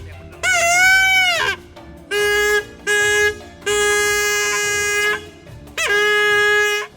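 A man gives a traditional vocal call that imitates animal sounds to summon wild pig-tailed macaques, five loud, close, strained, rooster-like wavering cries separated by short pauses, with nothing else heard in between.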